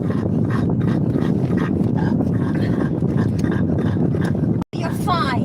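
Dogs whimpering and panting inside a moving vehicle, restless and continuous against steady road rumble, with someone talking to them to settle them down; a brief dropout near the end.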